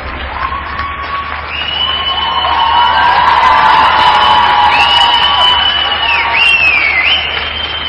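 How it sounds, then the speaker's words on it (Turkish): Crowd applause and cheering for Mehmet Aslan and Vida Robbins on an ice-dancing show, a steady wash of clapping and whoops that swells in the middle, with a song playing over it. "Ve alkışlar Mehmet Aslan, Vida Robbins için"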